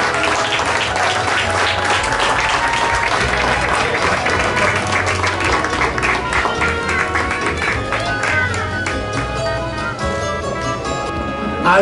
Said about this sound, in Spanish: Fuerte el aplauso para Arnold.